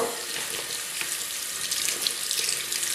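Tap water runs steadily into a sink while a shaving bowl is rinsed out, a continuous close hiss of splashing water with no pauses, heard alone.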